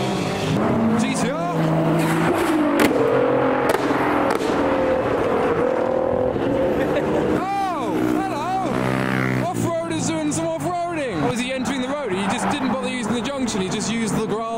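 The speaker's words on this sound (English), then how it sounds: "That was the GTR behind me, you might have heard." A loud Nissan GT-R sports car engine revs and roars past at a car meet, with rising and falling pitch and tire noise, while someone talks over it.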